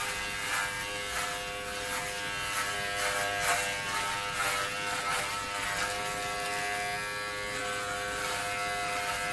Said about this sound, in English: I'm going to do it the way I've done it this time, which is shaving one side then the other